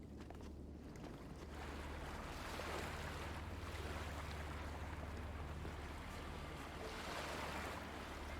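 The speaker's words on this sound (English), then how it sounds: "Why is the water so loud?" Loud water waves in The Talos Principle II wash and surge in a continuous roar of surf with a deep low rumble. The swells rise and fall in broad gusts, with no voices over them.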